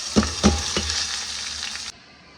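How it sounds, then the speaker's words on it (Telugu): Spices tempered in hot oil for rasam give a loud, close sizzle, with a few sharp crackles and stirring clicks near the start, then a steady fry that cuts off abruptly near the end. "ఇవి వచ్చేసి తాలింపు వేసుకుంటున్నాను రసంలోకి"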